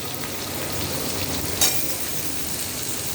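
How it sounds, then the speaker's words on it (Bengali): Chopped onion fries in a pan of butter and oil with a loud, steady sizzle and a brief sharper crackle partway through, and no voices. "পেঁয়াজটা এখানে ভেজে নিচ্ছি।"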